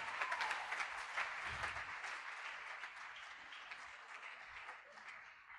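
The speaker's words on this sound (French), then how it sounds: "Sous vos applaudissements, Benji 4." A comedy show audience applauds as a performer is called to the stage, a steady wash of clapping heard at a fairly low level from a distance, with slightly stronger bursts at the start.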